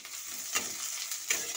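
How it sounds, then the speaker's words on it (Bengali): Chopped onion sizzles steadily in hot oil in a wok, a faint continuous frying hiss with two brief louder bursts as the pieces are stirred. "এবার এর মধ্যে আমি পেঁয়াজ কুচিটা দিয়ে দিচ্ছি।"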